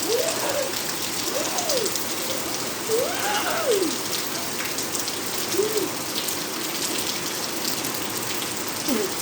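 Steady rain pours down outdoors in Jamaica, a dense even hiss that fills the whole stretch, with a few brief rising-and-falling vocal whoops faintly over it.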